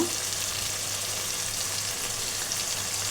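Ginger-garlic paste with salt, turmeric and chili powder frying in a pan, a dense even sizzle that keeps on like light rain, with no clear stirring strokes.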